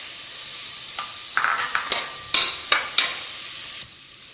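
Boiled chickpeas stirred into sizzling masala for channa pulao, with a steady frying hiss broken by several sharp spoon scrapes against the pan; no voices.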